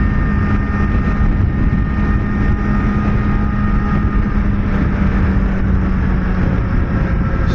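Kawasaki Ninja ZX-4RR engine droning loud and steady while riding, heavy low rumble mixed with buffeting wind noise, no talking.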